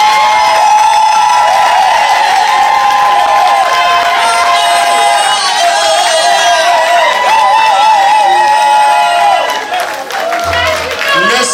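A church congregation in a pastoral consecration ceremony stands and cheers to acclaim the Lord, a loud continuous mix of shouting, clapping and singing voices filling the room throughout.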